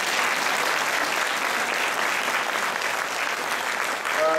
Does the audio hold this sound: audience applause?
yes